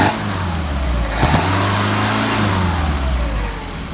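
A car engine fitted with a Solex 44PHH carburetor is revved up, rising from a steady idle into a loud, even acceleration up close before settling back.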